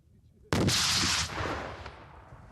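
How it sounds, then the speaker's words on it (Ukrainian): After brief quiet, a single sharp RPG-7 grenade launcher blast bursts out loudly during military training, then a rushing roar trails off and slowly decays outdoors. "Нині з гранатомета відпрацьовують умовні цілі."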